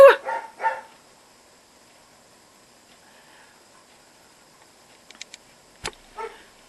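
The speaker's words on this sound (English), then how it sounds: "oi, what were you barking at?" A dog gives a few short barks up close at the start, then the room goes quiet before a couple of small clicks and one more brief bark-like burst near the end.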